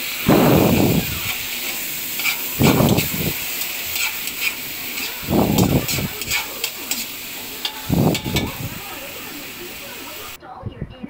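Broth poured over pieces of tilapia frying in a pan with onion, ginger and tomato brings several loud bursts of sizzling and stirring, each a second or so long and separated by quieter gaps, close to the pan.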